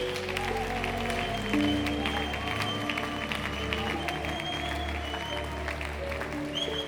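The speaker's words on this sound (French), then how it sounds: "Applaudis encore très bien le Seigneur" Steady clapping from a crowd at a prayer gathering, loud and continuous throughout, with a sustained musical tone underneath.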